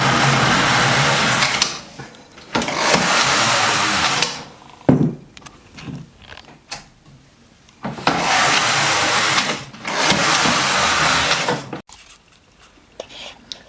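A Singer knitting machine works double jersey rows, the carriage sliding across in bursts of loud rattling clatter that alternate with short pauses as it reverses direction.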